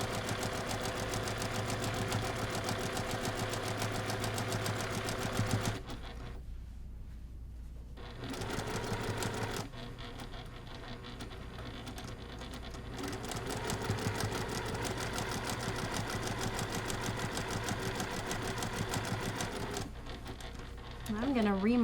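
A sewing machine stitches down quilt binding for a table topper, running with a steady rapid mechanical whir and brief pauses, heard close with a voice talking over it.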